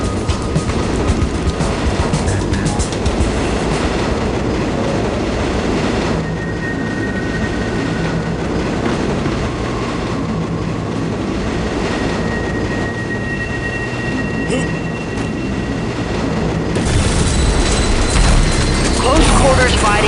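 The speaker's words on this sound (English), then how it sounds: "Blade, this car is heading back into the active tunnels." A subway car rolling through tunnels in the video game Sin, a loud, continuous rumble with mechanical clanking and rattling that grows heavier near the end.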